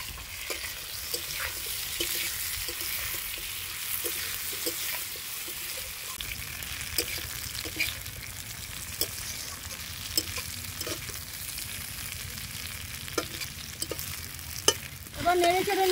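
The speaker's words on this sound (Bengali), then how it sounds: "ভালো করে আমি নেড়ে চেড়ে নেব।" Catfish with papaya, vegetables and spices such as turmeric and chilli fries in a pan while a spatula turns it. A soft, continuous sizzle runs throughout, broken by light, irregular scraping taps.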